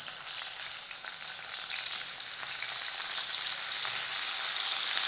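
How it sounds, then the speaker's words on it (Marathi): Eggplant pieces fry in hot wood-pressed oil for a spicy masala curry, giving a steady, loud, bright sizzle that holds throughout with no talking. "तर तेल तापलं आहे यामध्ये आपल्याला ही वांगी सोडायची"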